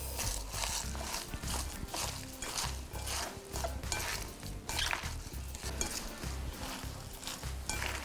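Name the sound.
mixing cabbage kimchi ingredients together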